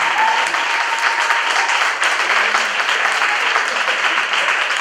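A congregation at an investiture ceremony bursts into loud, continuous applause acclaiming Jesus Christ, a dense even roar of clapping that fills the whole moment.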